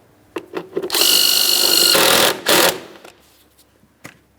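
A power tool whirs loudly for about two seconds, then gives a shorter second burst, while the battery hold-down mounting bolt on a 2008-2016 Chrysler Town & Country is tightened, with a few clicks and clanks before and after.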